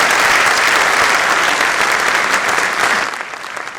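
Loud, dense audience applause at a mushaira poetry gathering in Indore, a continuous roar of many hands clapping close by that eases slightly near the end.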